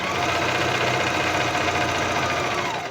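A sewing machine stitching a side seam of coveralls, a steady, close mechanical whir with a fast rhythmic knock running continuously without pause.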